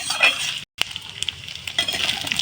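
Grated coconut fries in oil with a small pinch of salt, giving a close, crackly sizzle with light pops, briefly cut off by a short gap.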